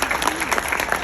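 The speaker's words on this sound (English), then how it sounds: "Give them a round of applause, please." An audience at an annual charity event gives a brief round of applause, a quick burst of dense clapping heard from a moderate distance.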